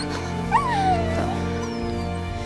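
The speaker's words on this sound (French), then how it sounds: "C'est un bon chien, ça." A dog whimpers and yips close by in a single rising, wavering whine over steady background hum, with no talk.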